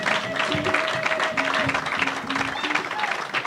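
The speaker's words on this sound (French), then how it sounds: "Acclamez bien" A church congregation at a French-language service claps in a steady, dense patter, with a voice over the applause throughout.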